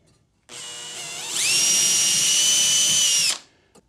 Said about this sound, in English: I'm going to be drilling holes through the side.